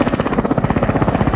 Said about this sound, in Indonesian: Joker dan Rafterman berangkat menggunakan helikopter